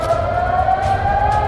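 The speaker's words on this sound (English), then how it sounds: "you can hear the air raid sirens going in" Air raid sirens wail during an Israel–Iran missile strike, a loud steady tone holding one pitch and drifting only slightly, heard alone without talking.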